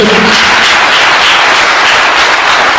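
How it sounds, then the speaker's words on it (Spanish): Loud, dense applause from a church congregation during a sermon, filling the whole short stretch without a break. "denle un aplauso para el Señor"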